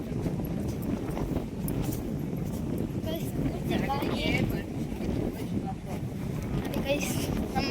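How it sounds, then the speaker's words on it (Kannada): Strong wind gusting around an outdoor temple, a continuous rushing roar with buffeting against the microphone and a faint crow call partway through. "ಪೂರ್ತಿ ಗಾಳಿ ಅಂದರೆ ಎಷ್ಟು ಗಾಳಿ."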